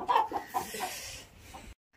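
A hen with young chicks clucks close by in a short series of sharp, quick clucks, then quieter calls, before stopping abruptly into silence.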